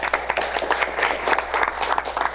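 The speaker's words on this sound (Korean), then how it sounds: "박수 한번 주십시오" Applause from a Korean book-concert audience honoring a publisher at an author lecture, a short, fairly close burst of individual claps from a modest crowd, uneven and distinct rather than blended.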